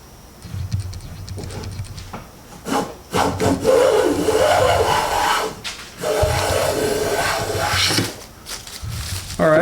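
A Preston No 9 hand plane cuts a full-width wood shaving along a board, giving repeated close scraping strokes with short pauses between passes.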